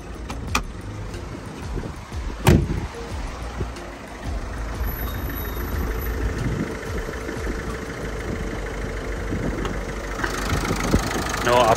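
A 2014 Peugeot 208 1.4 HDi diesel engine idles with an even low clatter, with a sharp knock near the start and someone talking over it throughout.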